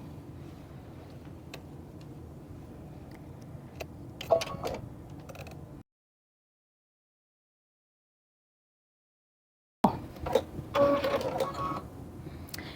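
Short bursts of a sewing machine stitching quilt block seams made from layer cakes and charm squares, a quiet rapid mechanical whir near the start and again after a silent gap.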